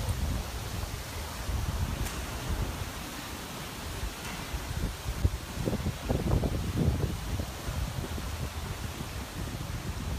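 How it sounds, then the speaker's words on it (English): Strong typhoon wind (Typhoon Hato) roars continuously at the Star Ferry Pier in Hong Kong, buffeting the microphone with deep rumbling gusts and a constant hiss, no voices present. "It's much windier on the south side of the island."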